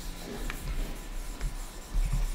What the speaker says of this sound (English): you do it by just rubbing the rosin up and down on the hair